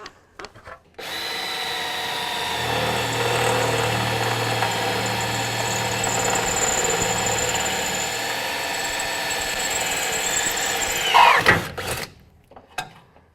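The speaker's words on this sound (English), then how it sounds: "So I'm going with this enormous drill bit here." A large power drill with an enormous bit grinds steadily for about ten seconds through a Mustang/Falcon frame rail, with a low motor hum, then surges and cuts off abruptly, leaving a brief rattle.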